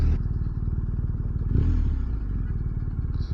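A motorcycle rolls in at low speed and parks, its engine rumbling steadily close by, with a brief surge and some clatter partway through.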